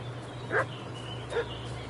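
A dog in the video game Kingdom Come: Deliverance 2 barks twice, a short woof and then another about a second later, moderately distant over a steady low ambient hum.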